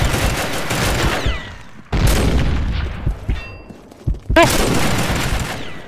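Rapid exchange of pistol fire in a pistols-only shooter match, loud bursts of gunshots in three dense bursts separated by brief gaps, with faint voices in the background.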